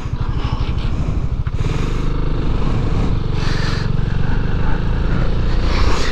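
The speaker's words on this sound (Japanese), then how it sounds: "エンジンも こんな感じでかかりますね。" A BMW C400X scooter engine starts and settles into a steady running note, with a continuous low mechanical rumble and light clatter close by for several seconds.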